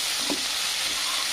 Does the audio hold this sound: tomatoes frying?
yes